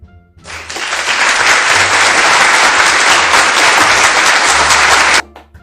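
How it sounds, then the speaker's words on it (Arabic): A classroom of students bursts into loud, dense applause for a classmate, a steady wash of clapping that holds for about four and a half seconds and then cuts off abruptly. "برافو عليك يا ابني صفقوا له."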